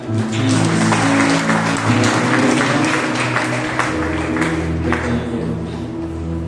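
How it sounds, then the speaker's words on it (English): A church congregation at a Monday prayer meeting claps together in a loud burst of applause, with sustained organ or keyboard tones held underneath, the clapping thinning slightly toward the end. "It's the mighty clap."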